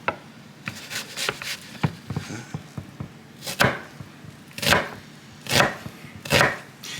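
A knife chops vegetables for Louisiana gumbo on a cutting board, with close, crisp thuds coming in quick uneven runs, then louder single strokes spaced about a second apart.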